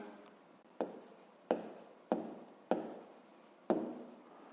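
Pen writing down a maths answer for a fifth-grade geometry exercise, heard as five distinct scratchy strokes at a steady rhythm, close and clear with no talking.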